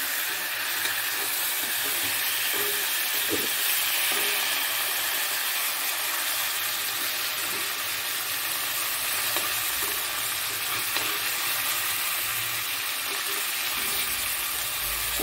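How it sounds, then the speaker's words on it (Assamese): Kawai fish frying in oil in a home kitchen, with a steady, loud sizzle and crackle and occasional stirring scrapes throughout, and no talking. "মাছখিনি ভাজি লওঁ"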